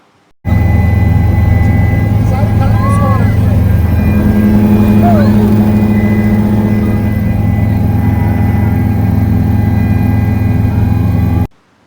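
Inside a helicopter during a ride at the Medaram Jathara festival, a loud, steady engine and rotor drone with a constant hum fills the cabin from start to finish.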